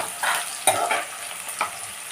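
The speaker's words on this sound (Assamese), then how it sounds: "এইখিনি অলপ ভাজি লৈছোঁ" Onions frying in hot oil, a close, steady sizzle broken by a few sharp stirring clanks and scrapes, with no talking.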